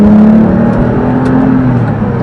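A cheap older Porsche 911 engine drones steadily from inside the car while driving, a low even hum with a slight rising whir and no talk over it.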